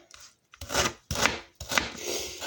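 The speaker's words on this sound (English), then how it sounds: "So we're just going to cut this into rough little cubes" A knife chops frozen food into rough cubes. There are three distinct, close, heavy cutting strokes, each a gritty scraping thud, separated by brief pauses.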